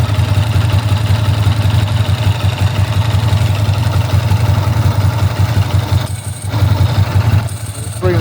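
A 1998 Ducati ST2 idles steadily at close range, giving a loud, even low thrum with a light dry-clutch rattle riding on it and a brief dip near the end, with no voices.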